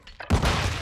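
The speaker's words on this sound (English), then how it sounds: "Throwing flash grenade." A flash grenade thrown in Call of Duty: Modern Warfare II lands with a sudden loud thud and burst after a short quiet lead-in, followed by a sustained ringing hiss.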